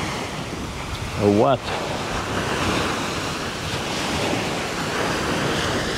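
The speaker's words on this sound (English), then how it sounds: "the water is a lot choppier here than was in Placentia" Choppy water on a windy day at Hopkins washes and rolls in as constant surf, with heavy wind rumbling over the microphone, and a brief voice near the start.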